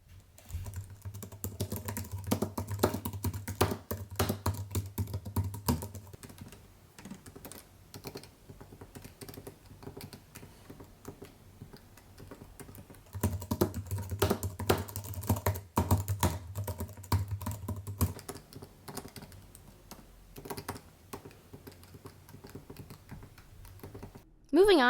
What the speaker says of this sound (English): These new keys allow for much quicker typing because of the lower latency times.